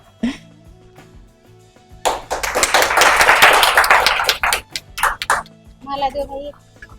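A burst of clapping breaks out at an honour ceremony for newly selected Uttar Pradesh Police candidates. It swells for about two and a half seconds, then scatters into a few claps, with people talking before and after.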